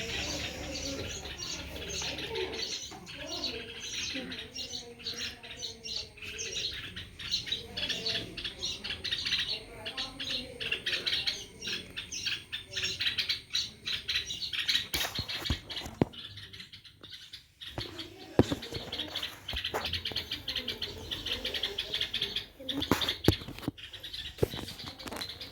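Baby birds chirp and squawk from a tree in a busy, irregular chatter of high calls, fairly faint, with patches of rustling and brief noisy bursts.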